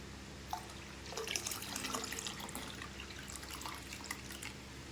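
Boiled cow's milk poured into a pot for a Pongal celebration at home, a steady close liquid trickle and splash with faint drips, running continuously without speech.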